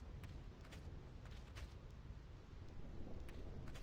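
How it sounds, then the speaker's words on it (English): Thunder rumbles and lightning cracks over the rain-swept Thunder Plains in Final Fantasy X, a steady deep storm roar punctuated by several brief sharp strikes, distant and low in level. "Lightning can strike at any time, so keep moving."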